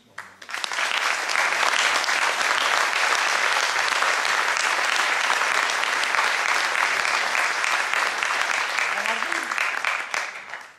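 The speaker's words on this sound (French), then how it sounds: "vous pourrez les applaudir après euh, que j'ai énoncé chacun leur nom." An audience at an honorary doctorate ceremony at a French university breaks into loud, sustained applause that fills the hall for about ten seconds before fading.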